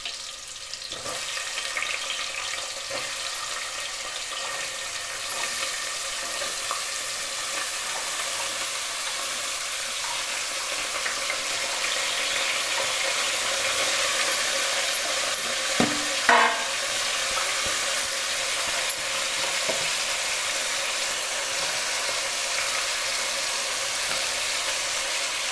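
Carrots, beans and kohlrabi fry in oil with a long, steady, close sizzle, occasional stirring knocks and a brief clatter past the midpoint, with no talking throughout.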